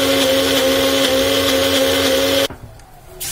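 A blender grinds a spice masala with salt and lime juice in a steady, loud high-pitched whir that cuts off abruptly near the end, leaving quiet room noise.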